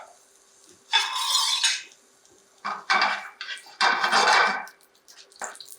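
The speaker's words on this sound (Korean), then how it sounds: "기름이 달궈지면 자, 파, 마늘, 생강을 넣고 향신채 볶아주세요" Scallion, garlic and ginger stir-fried in hot oil in a pan, with loud bursts of clattering utensil and pan scraping in separate spells between quiet pauses, no talking.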